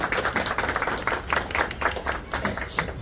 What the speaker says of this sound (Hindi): तो एक बार तालियों से खुशी का इजहार कर दीजिए